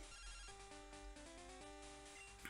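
A chiptune phone ringtone from the Pokemon Gold video game, a bright electronic melody of quick stepped beeps playing alone at low volume.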